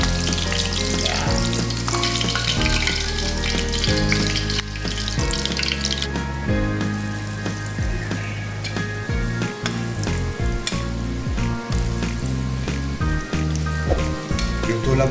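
Calamares frying in a pan, a loud, dense sizzle that carries on throughout, with a low steady hum beneath and frequent sharp scraping and tapping sounds near the end.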